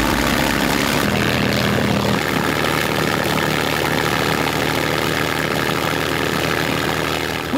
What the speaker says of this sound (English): Ear defenders on, chocks are holding, and maximum power.